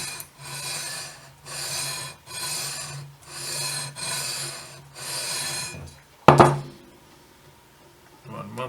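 A file rasping across guitar frets while crowning them, in six even back-and-forth strokes up close, followed by a sharp knock and quiet handling.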